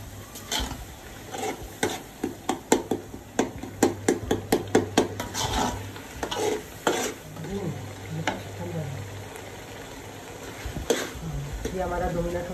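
Biryani ingredients sautéing in a pot, heard as a run of rhythmic close scraping stir strokes over a steady sizzle, loudest early on and then easing into softer frying, with no talk.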